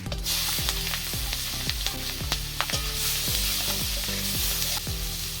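Tempering spices, onion and green chili sizzle in a pan of hot oil released from a large black carp fish, with a dense, loud, steady hiss and repeated clattering strokes of a ladle.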